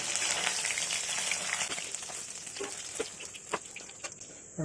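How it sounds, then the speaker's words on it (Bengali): Paneer slices frying in oil in a pan for paneer matar chilli, a close steady sizzle that thins slightly as pieces are lifted out, with light clinks of a utensil and no talk. "পনিরগুলোকে আমি এরকম লাল লাল করে ভেজে নিয়েছি।"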